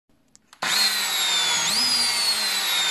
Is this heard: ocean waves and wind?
no